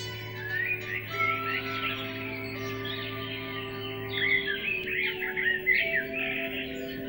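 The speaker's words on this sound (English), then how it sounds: "Quite a lot of birds arrived after this, and they can speak for themselves." Lots of birds feeding in a garden, a busy layer of high chirps and whistled calls overlapping throughout over a faint steady hum, with no voices.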